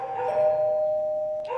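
An indoor doorbell rings with a sustained electronic tone that changes pitch briefly at the end, moderately loud and on its own.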